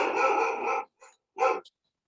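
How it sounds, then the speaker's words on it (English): A dog barks during an online video call: one long, loud bark-like burst, then a short faint yip and a second sharp bark, followed by silence. "Somebody's dog barking."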